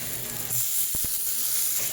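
Chopped tomatoes go into onions frying in a pan, giving a steady close hiss and sizzle broken by two quick soft thumps midway, with no voices.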